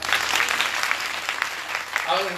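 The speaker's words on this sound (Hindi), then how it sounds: "आइए बच्चे के लिए ताली बजाओ" An audience at a religious discourse gathering claps for a child, a brisk, dense round of applause with talking mixed in near the end.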